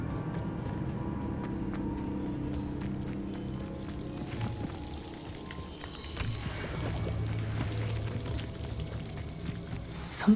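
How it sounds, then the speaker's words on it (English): A waterfall in the Hogwarts Legacy video game rushes as a steady, dense roar that runs unbroken for the whole stretch, with faint game ambience layered on top. "The waterfall."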